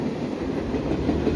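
A fast train passes directly underneath an overhead vantage point in Sidney, Ohio, producing a loud continuous rumble with rhythmic wheel clatter and no voices.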